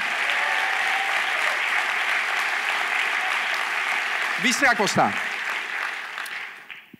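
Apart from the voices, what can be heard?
congregation applauding in church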